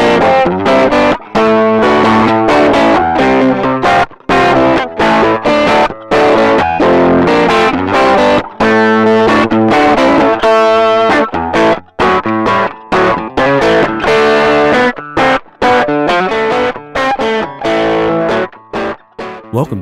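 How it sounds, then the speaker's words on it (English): Electric guitar played through a RockBox Brown Sugar distortion pedal voiced after a cranked vintage British non-master-volume amp, loud, thick overdriven chords and riffs with rhythmic stops, played alone without talk. "This distortion pedal is inspired by the highly sought-after tone of a cranked, vintage British non-master volume amp."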